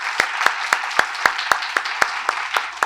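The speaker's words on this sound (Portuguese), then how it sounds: "Uma salva de palmas para ela, por favor." At an education event, sparse, evenly spaced claps ring out roughly every quarter second, a single or few hands clapping in a steady rhythm rather than a full crowd, fairly close and clear.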